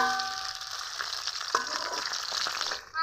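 Small kachki fish fry in hot oil after being turned over, a steady close sizzle with a few sharp spatters and utensil scrapes, cutting off abruptly near the end.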